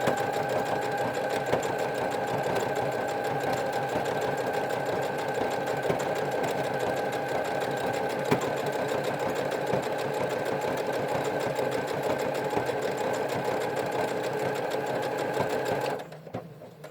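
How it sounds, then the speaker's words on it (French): A sewing machine stitches stretch fabric with a stretch needle, its motor and needle running in a steady, continuous rapid whir for a long stretch before stopping abruptly at the end, close and alone. "quand on coud du stretch à la machine"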